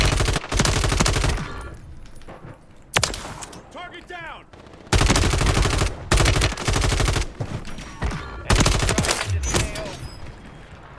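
Bursts of rapid automatic gunfire from an Uzi in Call of Duty Warzone, loud dense volleys broken by short pauses, with a few shouted words from a player in between.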